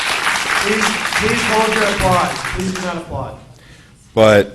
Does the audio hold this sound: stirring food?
no